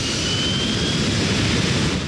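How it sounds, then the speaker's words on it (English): A jet aircraft takes off from an airport runway, giving a loud, steady, broadband engine roar with a faint high whine, close and unbroken for the whole stretch. "Cleared for takeoff, runway 16."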